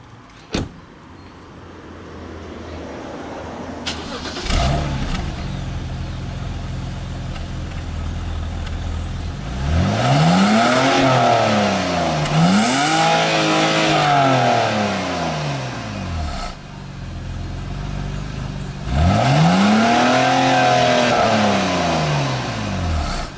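BMW E90 328i with the secondary catalytic converters deleted, its engine starting and then revving repeatedly, with rising and falling swells of a raspy exhaust note, close and loud, with no talking.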